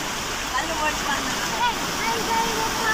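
Rain-swollen streams rush fiercely after heavy downpours, giving a steady, dense roar of turbulent water that holds constant across the whole stretch with no voices heard.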